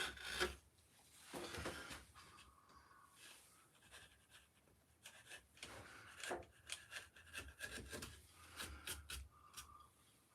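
A very sharp chisel carves wood by hand, giving close, irregular scraping and rasping strokes in short bursts with brief pauses between, fairly quiet with no talking.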